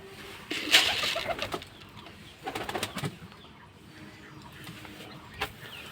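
Pigeons feeding on grain and wheat give soft, close cooing calls in a few short bursts, with occasional wing flaps and light pecking between them, no voices present.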